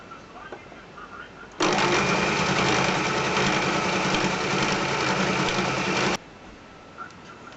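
A sewing machine stitches a folded fabric hem in one continuous loud, fast whirring run of about four and a half seconds, with quiet room sound before and after.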